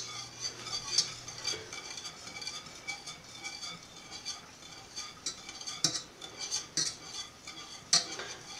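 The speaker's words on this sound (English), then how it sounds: "I'm gonna go ahead and whisk in the chocolate chips" A whisk clinks and scrapes steadily against a pot as semi-sweet chocolate chips are stirred into hot milk, with brighter metallic ticks recurring every second or so at moderate, close range.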